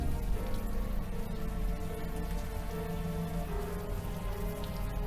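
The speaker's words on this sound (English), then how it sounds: "Now that it's out of the open air, the warm rain is coming down." Warm rain falls in the video game Unavowed as an even patter on a surface, steady and close throughout, with a soft tonal music bed underneath.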